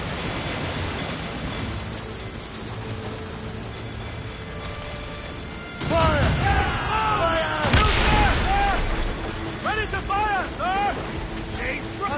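Ship cannons firing during a naval battle in Assassin's Creed Rogue, with booming blasts over a steady wash of sea, wind and creaking hull, and voices talking between the shots.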